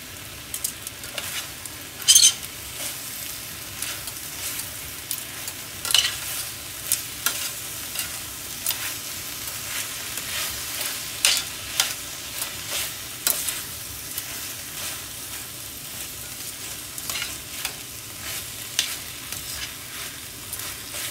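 A mixture of peppers and onions frying in a pan, a low steady sizzle under repeated light scrapes and taps of a spoon stirring, close but fairly quiet and without talk.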